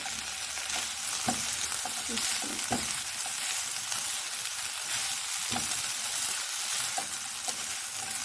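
Spring roll filling fries in a pan over a medium flame, giving a steady close sizzle broken by scattered taps and scrapes from stirring. No voice is heard.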